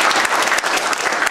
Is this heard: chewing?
no